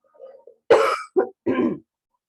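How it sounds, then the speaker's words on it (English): Several harsh coughs close to the mic, one short bout followed by two more, with a quiet throaty sound just before. "Sorry for my coughing."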